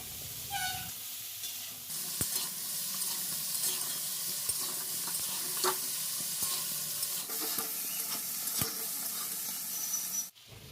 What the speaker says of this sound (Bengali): আলু আর ঢ্যাঁড়সটা ভাজতে ভাজতে এর মধ্যে দিয়ে দেবো নুন আর হলুদ